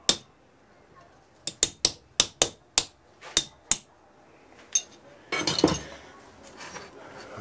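A casting pattern sits in foundry sand and is tapped repeatedly to loosen it, a run of about ten sharp metallic knocks at an uneven rhythm, close and distinct, followed by a scuffling clatter.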